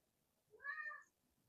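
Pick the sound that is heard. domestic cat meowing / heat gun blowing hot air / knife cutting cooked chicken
domestic cat meowing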